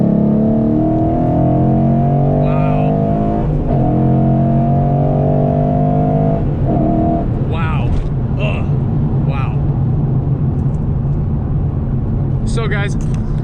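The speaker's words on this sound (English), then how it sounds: "if I'm revving it or if I'm barely throttling it, then it sounds very different" Close, loud idle and revving of a 2014 Mustang GT V8 fitted with a Boss 302 intake manifold, a steady throbbing drone with brief throttle blips, while someone talks over it.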